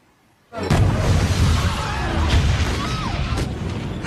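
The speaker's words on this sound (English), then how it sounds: "Oh, fireworks!" Loud, dense crackling and bursting from a film scene that a character takes for fireworks, set in the Revolutionary War era, continuing steadily for several seconds after a sudden start, with no talk.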